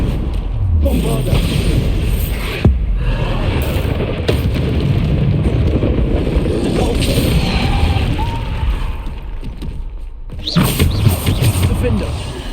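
Bombarda explosion spell in the video game Hogwarts Legacy, loud booming blasts and crashing game combat effects over a continuous dense rumble, with a voice heard in the mix.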